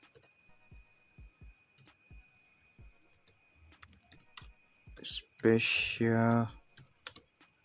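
Typing on a computer keyboard: scattered, fairly quiet clicking of individual keystrokes in irregular rhythm, with a voice speaking briefly near the end.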